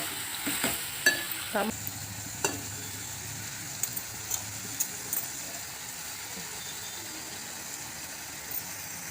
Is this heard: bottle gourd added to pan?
yes